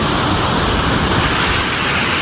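Monsoon floodwater rushes past close by in a village during the rainy season, a loud, steady broadband roar that holds unbroken throughout with no voices over it.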